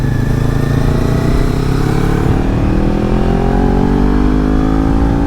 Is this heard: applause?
no